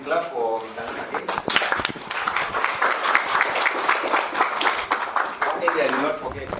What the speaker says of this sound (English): We clap for Mr. Nake.